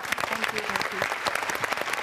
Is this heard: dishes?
no